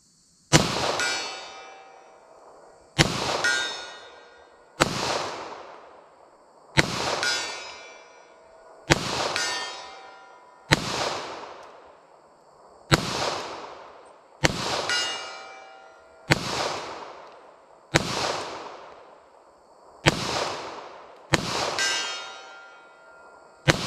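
.40 caliber full metal jacket rounds are fired into ballistic gel, about ten sharp, loud reports at a slow, even pace, each ringing out and decaying before the next shot.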